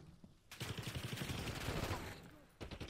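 Rapid bursts of automatic gunfire in the Call of Duty Black Ops 6 campaign, a dense, loud fusillade of shots lasting about two seconds, tailing off before a few more shots at the end.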